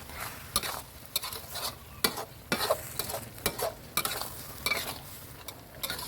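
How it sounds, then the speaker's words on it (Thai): Minced pork and bamboo shoots being stir-fried in a pan for a spicy stir-fry, with repeated scraping and stirring strokes over a steady sizzle, close and fairly loud, with no talking. "ผัดสักครู่นะครับให้หมูสุกเข้มข้นครับ"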